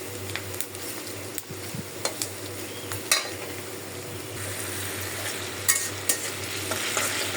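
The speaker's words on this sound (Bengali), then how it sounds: "কড়াইতে দিয়ে দিলাম পেঁয়াজ আর কাঁচামরিচ।" Onions and green chilies fry in a hot wok as the base for a Bengali fish-head muri ghonto, giving a steady close sizzle broken by stirring scrapes and light clinks, with no voices.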